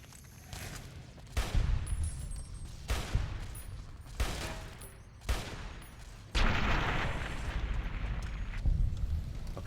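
Gunfire in Fallout: New Vegas: several loud, sharp shots spaced a second or so apart, then a heavier, sustained burst of rapid fire that runs to the end.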